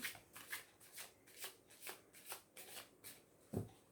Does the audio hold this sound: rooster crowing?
no